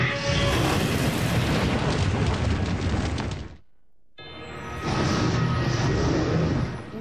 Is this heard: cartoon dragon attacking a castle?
yes